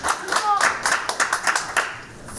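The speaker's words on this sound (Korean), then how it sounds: "박수 한번 주세요. 박수 한번 주세요." An audience claps at a political speech inside the National Assembly, producing a short burst of irregular, close, crisp applause with a voice briefly audible over it.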